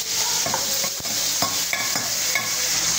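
Chopped vegetables, chayote among them, sizzle and hiss in a hot pan while a utensil scrapes and stirs in irregular knocks, close and continuous over the frying.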